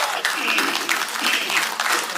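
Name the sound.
audience applause at a seminar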